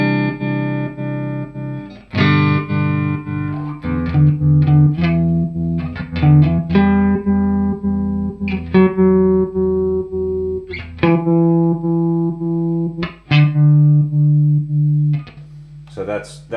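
An electric guitar through a Fender Tre-verb amp set to minimum tremolo rate and maximum depth plays sustained chords and notes that slowly swell and pulse in volume, loud and close, with no voices.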